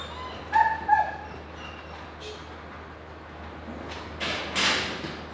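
A dog gives two short barks or yelps early on, then whimpers and a few higher yips follow over a steady low hum, close by during a training session on handling an aggressive dog.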